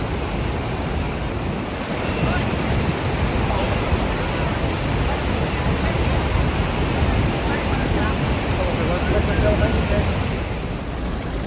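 Iguaçu Falls thunders in a steady, dense roar of falling water that holds constant and loud from start to finish, with no pauses.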